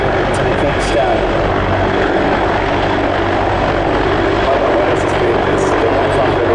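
A Sikorsky CH-53K King Stallion, a US Marine Corps heavy helicopter, flies a demo at the ILA air show. Its loud, constant rotor and engine roar fills the whole clip, while an announcer talks over it.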